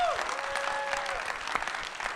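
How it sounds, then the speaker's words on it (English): Applause from a live studio audience, steady and continuous under a faint held tone, with no clear voices standing out. "Round of applause"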